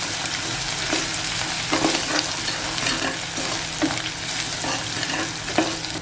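Ground masala paste sautéed in oil for masoor dal aamti, giving a dense, loud, continuous sizzle with occasional stirring scrapes close by.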